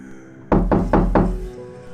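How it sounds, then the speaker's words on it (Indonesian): A bedroom door rapped four times in quick, evenly spaced, loud close knocks, then a short fading ring of the wood. "Bapak itu mengetuk pintu kamar."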